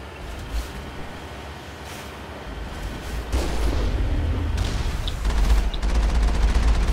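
Sustained gunfire hammers at a turret in the Mass Effect video game, a dense, loud barrage of rapid shots with heavy booming impacts. It grows stronger midway and keeps going steadily, with no talking.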